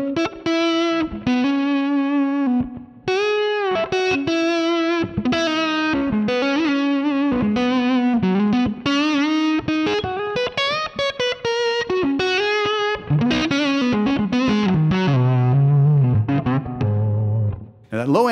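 Distorted electric guitar through a Line 6 Helix plays a melodic phrase with a wet, splashy spring reverb tail (10 ms pre-delay, 3.8 decay, 35% mix), loud and continuous, notes ringing into one another.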